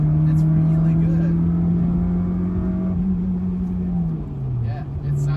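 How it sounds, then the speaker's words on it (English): A Honda Accord Euro R CL7 with a K24 engine revs and pulls through the gears, its steady loud drone holding then dipping near the end as the revs fall, with a voice talking over it. "That K24 revving out sounds really good."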